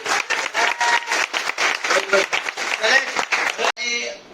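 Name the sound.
applause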